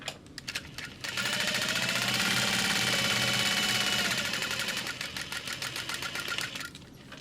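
A home sewing machine runs at a steady, fast, even hum while top stitching a small fabric mini backpack, with brief stop-start bursts at the beginning and end of the stitched run.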